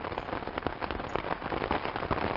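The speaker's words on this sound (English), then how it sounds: "Correct, that is a rainfall." Steady rainfall patters densely on a surface, a continuous close hiss of drops with no pauses.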